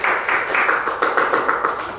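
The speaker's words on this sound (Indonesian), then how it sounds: "Oke, tepuk tangan dulu untuk Ina dong." Classroom applause for a student during a micro-teaching session: a short, steady patter of several people clapping together, close and fairly loud, with no talking over it.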